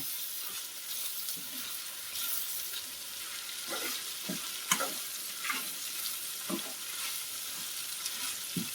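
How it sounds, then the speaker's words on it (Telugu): Ground biryani masala and coriander fry in hot oil with a constant bright sizzle, while occasional spoon scrapes and stirring knocks stand out close and clear, with no talking. "ఇలా ఒక 2 నిమిషాలు ఫ్రై అవ్వాలి"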